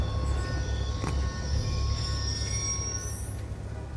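A train rumbles steadily past in the Call of Duty Black Ops II campaign, loud and close, with metallic wheel squeal and a rising whine near the end.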